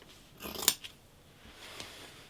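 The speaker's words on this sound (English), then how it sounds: "put the pattern piece on top, cut it out" Scissors snip through a pile of denim fabric in a quiet room, giving one crisp, close cut with a faint follow-up click and a softer snip afterwards, with no voices.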